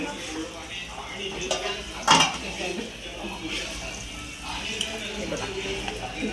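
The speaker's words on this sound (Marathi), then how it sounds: "आपण गॅस खूप कमी करू आणि त्याच्यावर झाकण ठेवू" Metal clatter of a lid being set onto a pan of prawn curry, with a sharp clank amid scattered pot and utensil knocks and a voice talking in the background.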